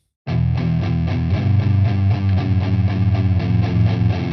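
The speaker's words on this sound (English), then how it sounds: "And then the distortion kicks in and we go like this." Heavily distorted electric guitar chugging a steady rhythmic riff, loud and close, with no voices.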